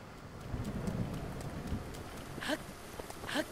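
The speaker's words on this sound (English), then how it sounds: "I would really love it for it to stop raining soon" Rain falls in Zelda: Breath of the Wild during a thunderstorm with lightning. A faint, steady patter runs throughout, and two brief, sharp, crackling accents cut through near the end.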